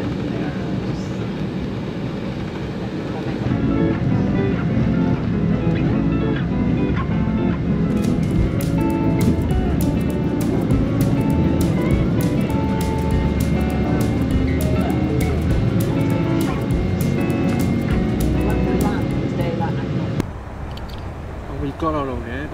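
Cabin view of a TAP airliner taking off from Manchester: a steady loud engine roar builds and holds, with rumbling and rattling through the cabin from the takeoff roll and climb, no talk.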